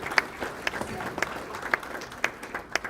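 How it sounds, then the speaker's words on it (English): Scattered clapping from a gathering of marching band alumni at a brunch, with a few sharp, evenly spaced claps standing out over a murmur of voices. "please give yourself a round of applause for that"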